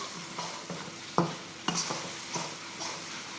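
Food is stir-fried in a wok on an induction wok burner, a steady close sizzle broken by a few sharp metallic scrapes and clanks of the spatula against the pan.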